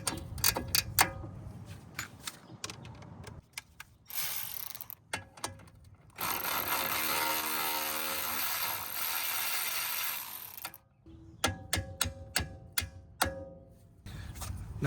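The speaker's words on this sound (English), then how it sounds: "I'm gonna have a pretty easy time removing this bolt." A ratchet wrench works a control arm bolt loose on an Audi Q5. Bursts of rapid, close clicking alternate with a longer, steady whirring spin in the middle, with no talking.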